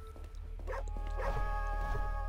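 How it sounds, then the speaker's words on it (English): A dog in the video game Hyper Light Drifter gives two short, yipping barks over a steady low electronic hum and soft game ambience. "Hey, puppy."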